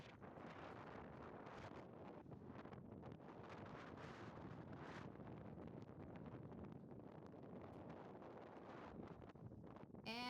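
Outdoor wind buffets a microphone in a steady low rumble with rustling, loud and continuous for about ten seconds where birds try to perch.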